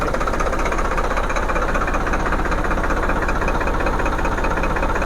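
A tractor's diesel engine runs steadily at a fixed idle speed while its fuel pump RPM is being set, with a loud, even, knocking chug that continues without change and no voices over it.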